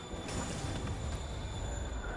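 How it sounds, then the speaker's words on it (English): A moving train in Spider-Man Remastered rumbles steadily and loudly with rattling wagons and a thin, sustained wheel squeal throughout, no voices over it. "Train's moving."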